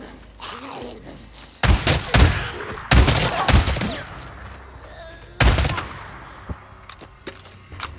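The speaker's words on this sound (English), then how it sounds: "God, I love the auto shotgun." Auto shotgun blasts in the game Days Gone, four or five heavy booming shots spaced about a second apart, loud and close, with quieter game sounds between them.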